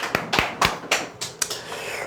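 A few people clap their hands in a short burst of about seven sharp, scattered claps at an office sales coaching session, close and fairly quiet with no talk over it.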